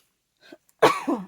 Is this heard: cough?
yes